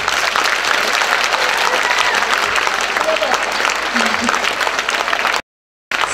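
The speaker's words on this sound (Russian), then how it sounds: "Спасибо и аплодисменты!" Dense, steady applause from a concert audience at a show fills the room without a break, then cuts off abruptly into silence just before the end.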